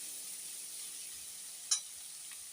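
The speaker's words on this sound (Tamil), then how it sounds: "ரெண்டு நிமிஷம் இது வதங்கட்டும் இப்போ வெங்காயம் நல்லபடியாக வதங்கிடுச்சு" Chopped onions sauté in a pan for a pea masala gravy, giving a faint, steady sizzling hiss with one brief sharp click near the end.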